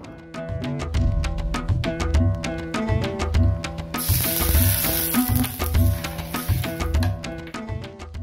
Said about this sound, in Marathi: यावर मी जिऱ्याची फोडणी देऊन घेते